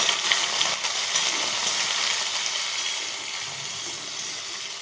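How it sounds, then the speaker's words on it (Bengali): Cut eggplant pieces frying in hot oil with green chilies, a steady broadband sizzle running continuously and fairly loud throughout, close by and without talk. "বেগুনটা একটু ভাজা হবে।"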